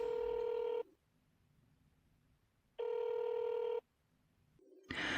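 Touch-tone keypad beeps followed by a ringing tone on a phone line, two long steady tonal bursts separated by silence, then a brief click and noise at the end; no voices.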